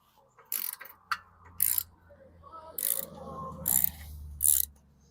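A ratchet and socket loosen a bolt on a 2011 Yard-Man 625 series push mower, sounding as about five short bursts of sharp, rapid clicking, close and separated by brief pauses over a low background hum.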